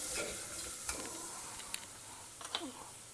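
Stirring and light sautéing in a pot as homemade sambar powder is mixed with vegetables for a one-pot South Indian sambar rice, with soft scraping strokes and faint sizzle at low volume.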